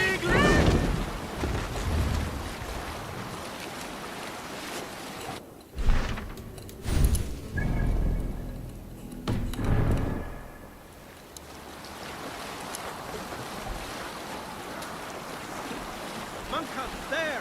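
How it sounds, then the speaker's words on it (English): A Viking longship under sail in Assassin's Creed Valhalla, with loud rushing wind, buffeting gusts and waves washing against the hull, voices shouting briefly over the constant roar. "This wind would fill the sail."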